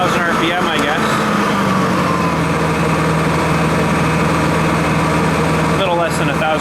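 A vehicle engine idling at about 1,000 RPM with the eco throttle switched off, a loud, steady low rumble with a constant hum close by, a brief rattling change near the start and end.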